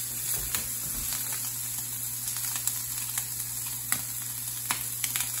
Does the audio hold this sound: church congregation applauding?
no